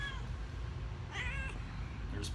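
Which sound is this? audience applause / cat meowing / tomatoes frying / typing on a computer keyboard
cat meowing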